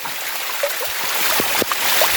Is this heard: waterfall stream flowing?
yes